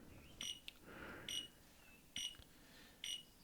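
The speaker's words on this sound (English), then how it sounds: "Maniac plays a series of random notes simultaneously accompanied by a flashing pattern" The Maniac video game sounds a series of bright electronic beeps, four short high tones spaced evenly about a second apart, with faint buzzy notes between them.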